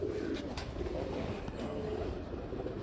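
Pigeons coo softly and steadily in a loft of Teddy pigeons, a low continuous murmur with a faint bird call or two above it and no talking.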